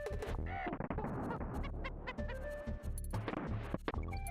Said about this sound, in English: I love the sound the bird makes